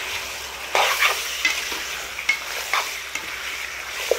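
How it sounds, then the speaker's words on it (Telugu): Chicken sizzles in a hot pan as it is stirred, with several sharp scraping strokes of a utensil at uneven intervals over a steady frying hiss, close and clear with no talk. "చికెన్ని మంచిగా కలుపుకుందామండి."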